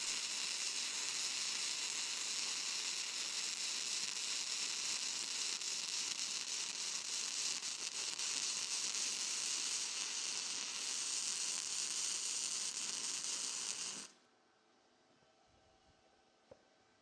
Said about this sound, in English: When you hear it kind of chugging a little bit rather than just a straight sizzle